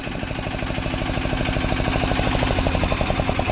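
A farm tractor's engine keeps running and refuses to shut off, chugging with a close, steady, rhythmic idle pulse that continues without a break and with no talk over it.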